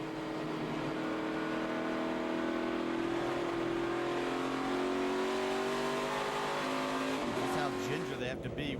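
A NASCAR Nationwide race car engine at Road America roars from onboard, loud and continuous, revving up through gears with a throttle lift and downshift near the end, while commentators talk over it.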